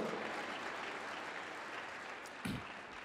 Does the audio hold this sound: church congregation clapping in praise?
yes